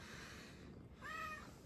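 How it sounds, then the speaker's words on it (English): A single cat meow rises midway through steady room noise in a radio studio during a talk show, fairly close and moderately loud, with no talking at that moment. "This cat's distracting me."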